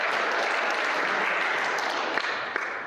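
Dense, steady audience applause fills the room without pause, a continuous wash of many hands clapping together at close range.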